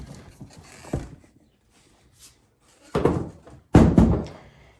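A latched seat is being pulled off a 2006 Polaris Sportsman 500 ATV: a soft rattle, then two loud, close plastic-and-metal thunks as the seat pops loose and is lifted, with a quiet gap between them.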